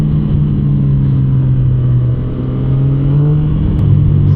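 A Triumph Speed Triple 1200 RX motorcycle, 2026 model, pulls hard on a group ride, its engine a loud, steady, close drone with a slight dip and swell in pitch and no voices.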